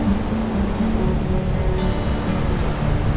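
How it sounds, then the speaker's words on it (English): Big ocean waves surge and break continuously on Bellows Field Beach, Oahu, a loud, steady roar of surf with no pause and no talking. "Just take a last look at this big waves."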